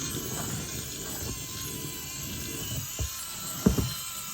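A large 1/6 scale radial model engine runs on battery power with its valves and gears turning. It gives a steady, soft mechanical whir and hiss, with a few sharp clicks near the end.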